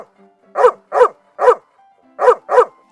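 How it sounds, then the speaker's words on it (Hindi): A cartoon dog barks loudly and close by, five sharp barks in an uneven rhythm: three evenly spaced, a pause, then two more in quick succession, with no other sound between them. "कुछ समय बाद उस चित्र में से एक कुत्ता बाहर आ जाता है और भौंकते हुए घर के बाहर चला जाता है।"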